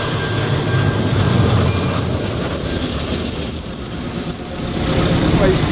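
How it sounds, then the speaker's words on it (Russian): Steady, loud rumble and roar of a moving passenger train, continuous and even throughout with no pauses. "Едет мой поезд, едет."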